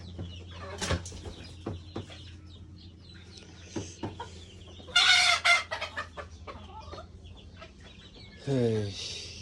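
Large farm chickens cluck in scattered bursts, with one loud squawking outburst midway and a rooster's crow near the end, heard close by without talk.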